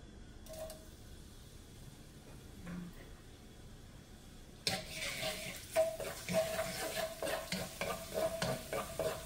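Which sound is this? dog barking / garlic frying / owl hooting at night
garlic frying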